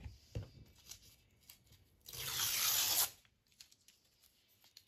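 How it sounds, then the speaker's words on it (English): Paper is torn by hand to trim a journal signature, one close, dry rip lasting about a second amid faint handling rustles in a quiet room. "I'm just going to rip it."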